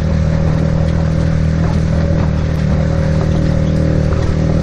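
A Chinese 50cc moped engine runs at high revs in a continuous, steady buzzing drone, loud and close throughout with no pauses.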